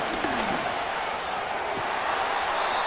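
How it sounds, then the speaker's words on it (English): Stadium crowd in Madden 25 during a Raiders vs Rams game on third down: a dense, steady roar of many voices that stays loud and even throughout, with no single voice standing out. "The crowd making their presence felt."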